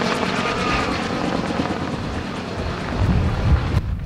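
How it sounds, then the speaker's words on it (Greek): A firefighting helicopter's rotor and engine roar loud and steady, thudding continuously close by with no voices. "συνέδραμε από αέρος πυροσβεστικό ελικόπτερο που απογειώθηκε από την Άξο"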